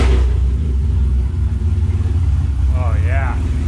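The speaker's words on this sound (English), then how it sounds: "it wouldn't be right if we didn't start the car with open headers now." The engine of a BMW Z-Kart fitted with open headers and still carrying its catalytic converters rumbles loudly and close, revving roughly with a hesitation, while someone talks over it.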